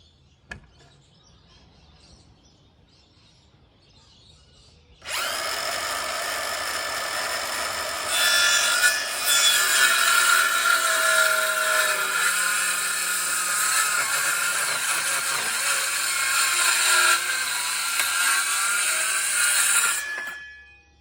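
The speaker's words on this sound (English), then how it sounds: "Great little saw, this one. It's a Bosch 18 volt, kind of middle of the road." A Bosch 18 volt cordless saw, a Bosch Blue Professional, cutting into a heavy wooden fencepost: after a quiet start the motor kicks in loud and close, whining steadily through the wood for about fifteen seconds before winding down.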